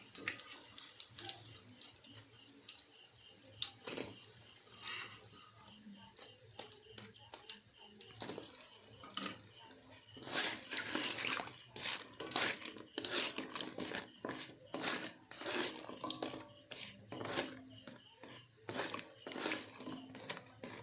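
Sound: fried semolina sweets put into sugar syrup

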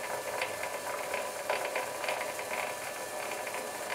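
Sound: Myford lathe running with back gear engaged

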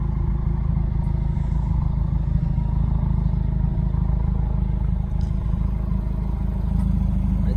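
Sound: 2016 Subaru WRX Limited stock exhaust without mufflers

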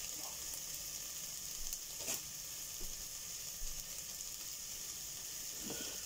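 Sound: onions frying in a pan

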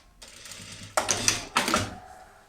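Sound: sewing machine stitching a pajama leg hem

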